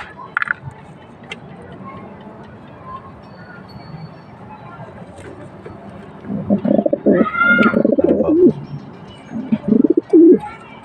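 Pigeons coo in low, throaty bursts, growing louder and more frequent in the second half over a quiet background, close by.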